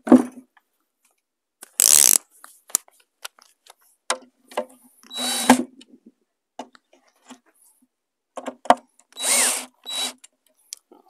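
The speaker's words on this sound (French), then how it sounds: "On va essayer de visser davantage." Cordless power drill driving screws into wooden foundation formwork, several short whirring bursts separated by silences, with clicks and knocks of handling between runs.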